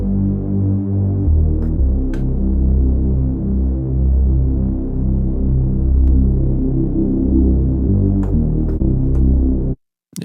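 A dark synth bass with its filter resonance raised plays a loud, throbbing low line of sustained notes with a resonant bump in its tone, changing pitch every second or two before cutting off abruptly near the end.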